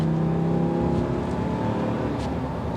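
A 2022 Ram 2500 Power Wagon off-road truck accelerates with a steady engine drone and whir, loud and close throughout, with no talk.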